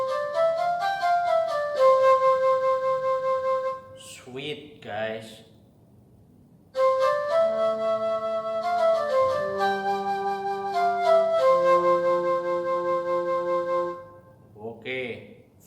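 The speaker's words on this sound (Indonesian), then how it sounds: "flute, bunyinya kira-kira seperti ini guys." A keyboard plays a flute voice in a smooth, breathy melody of sustained notes across two phrases, close and clear. A brief spoken remark comes in a pause and again at the end.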